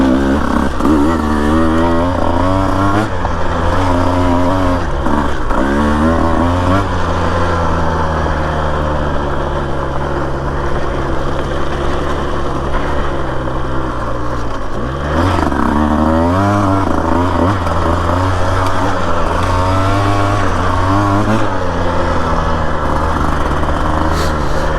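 A Husqvarna TE150 dirt bike rides single track near Florence, Arizona in third gear, its engine droning loud and close throughout with repeated rises and dips in revs and no clutch or downshift breaks.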